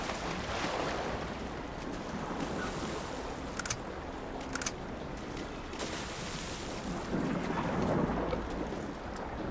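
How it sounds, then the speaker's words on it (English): A thunderstorm in the video game Uncharted 3 at a shipyard by the sea, with a continuous roar of rain and surf, a few brief sharp cracks in the middle and a louder swell near the end. "I heard there's a storm"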